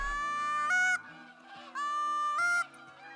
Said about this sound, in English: This is probably like the third flock of geese that I've seen so far